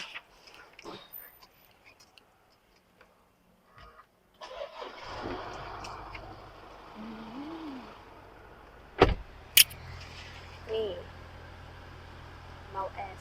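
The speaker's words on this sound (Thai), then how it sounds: "เบาะปรับไฟฟ้าคู่หน้า" An electric front seat in a 2021 Isuzu MU-X 3.0 Ultimate 4WD adjusts with a steady low motor whir lasting several seconds, with a few clicks and bumps. Someone talks before and over it.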